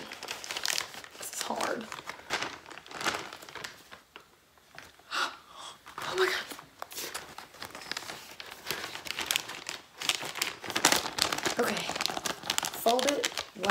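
MRE ration pouch crinkled and handled up close, continuous loud plastic rustling and crackling throughout as food is added to the heater pouch, with a person talking intermittently over it.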